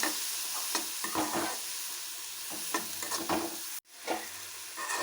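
Onion, tomato and mixed vegetables frying and being stirred in a pan for masala Maggi, a steady close sizzle broken by repeated scraping stirs and one brief dropout near the end.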